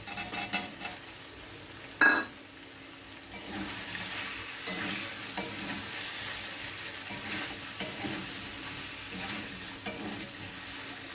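Soybeans stirred into spice masala in a hot pan, a close steady sizzle with scraping strokes of a spoon and occasional clinks against the metal.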